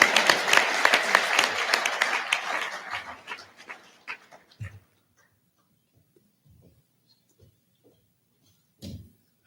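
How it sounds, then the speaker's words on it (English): A Rotary club audience in Toledo applauds after a talk: dense, close clapping for about four seconds that fades away, followed by near silence with a few scattered small noises. "Or give me a round of applause,"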